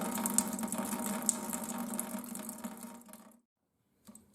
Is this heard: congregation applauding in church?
no